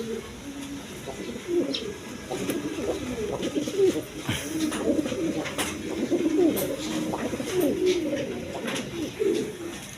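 Domestic pigeons coo and flutter softly in a loft after being let out, several birds overlapping in a continuous murmur of low calls, close by.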